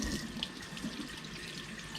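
Tap water runs steadily into a kitchen sink while a whole farm-raised chicken is washed, a continuous close splashing wash with no talking.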